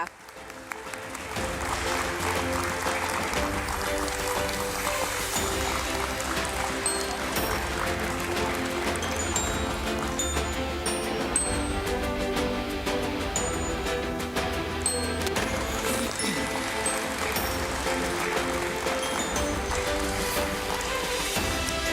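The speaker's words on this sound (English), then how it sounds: "Can we please have a big round of applause, ladies and gentlemen, while he walks up on stage?" A large audience at a stock exchange listing ceremony breaks into a big round of applause, dense and loud clapping that is sustained evenly for over twenty seconds while a guest walks up on stage.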